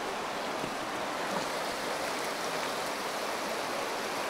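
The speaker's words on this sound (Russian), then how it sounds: "Вот такая речушка здесь." A small river stream flows steadily in a remote Scandinavian wilderness, giving an even, continuous rushing and gurgling wash of water with no voices.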